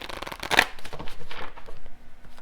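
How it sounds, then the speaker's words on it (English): Tarot cards drawn and shuffled from a deck, a quick flurry of papery riffling and flicks up close, with one sharper card snap near the start. "I'm going to get one final card here from this deck"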